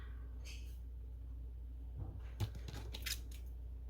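Scissors trim paper for a passport-size planner, a few faint close snips and crisp rustles clustered toward the end against a quiet room hum.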